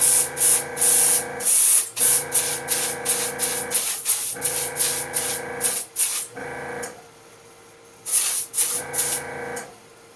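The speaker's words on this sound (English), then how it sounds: "on the small letters like this, I actually find out that my airbrush works a little better" An airbrush sprays paint onto small laser-cut wooden letters in loud, steady hissing bursts of one to two seconds, separated by short pauses, with a final longer burst after a brief gap.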